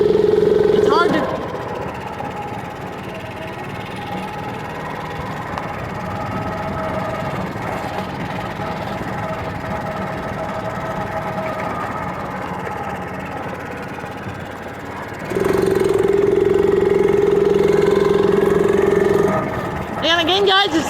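A 49cc three-gear mini bike engine running in third gear, a steady mid-pitched drone that holds throughout with a louder, sharper whine near the start and end.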